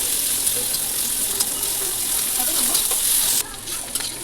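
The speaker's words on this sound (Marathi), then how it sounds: "एक चमचाभर तेलामध्ये व्यवस्थित आपण मऊ होईपर्यंत भाजून घ्यायचे" Onions sizzling in hot oil: a loud, steady frying hiss with light stirring, easing off abruptly near the end.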